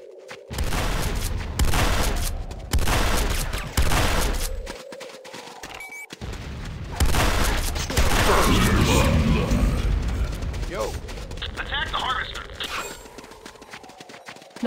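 Rapid gunfire in a video game as an enemy airstrip is attacked, loud bursts of shots separated by brief pauses, with mechanical clatter and a faint spoken line partway through.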